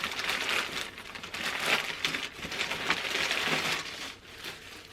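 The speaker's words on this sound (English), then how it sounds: "It is packaged in a pineapple poly mailer." A plastic poly mailer with a pineapple print being handled, steady crinkling and rustling of thin plastic close up for several seconds, with no speech.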